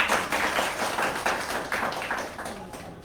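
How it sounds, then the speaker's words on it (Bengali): Applause from the audience at a Bangladeshi public discussion meeting, a dense steady patter of many hands clapping together for about three seconds, easing slightly toward the end with no voices over it. "আমরা সবাই একটা করতালি দিই।"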